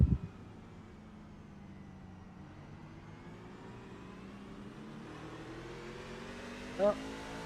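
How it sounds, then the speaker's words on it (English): NASCAR stock car engines in a racing video game on the Tsukuba circuit, a faint whine that swells and fades as the throttle lifts and reopens through a turn, under quiet commentary. "Just listen to the the throttle control, especially in this last turn coming up here"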